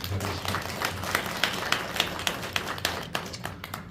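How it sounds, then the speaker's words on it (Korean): Applause from a church congregation for the choir, a dense steady patter of clapping with a low hum underneath, moderately loud and filling the whole stretch. "우리 격려의 박수 올려주시기 바라겠습니다"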